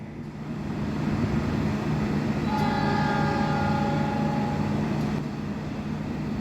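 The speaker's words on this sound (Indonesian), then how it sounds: "Kereta api Argo Semeru telah diberangkatkan dari stasiun Perupuk ya." Argo Semeru passenger train departing Prupuk station, a steady close rumble of rolling wagons running throughout with a long sustained horn tone sounding in the middle.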